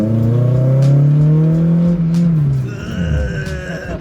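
A Honda S2000 sports car engine revs loud and close with a strong droning tone, then sags and dies as it stalls, leaving quieter mechanical noise.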